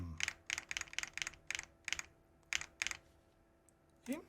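Mechanical keyboard with Wuque Aurora switches being typed on, a quick series of crisp, close clacks in short bursts, a pause, then a few more keystrokes, no voices.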